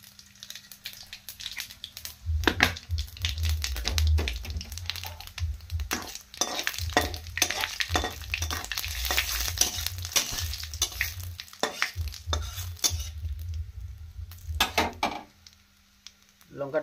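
Cumin, bay leaf and dried red chilli fry in hot oil in a pan, a continuous sizzle broken by sharp scraping stirs and clinks of a utensil against the metal.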